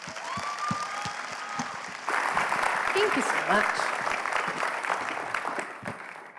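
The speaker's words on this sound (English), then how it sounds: "so give her a huge round of applause." Conference audience applauding a speaker at a talk on humans and generative AI, broad sustained clapping that swells and then tapers, with a voice speaking briefly over the start.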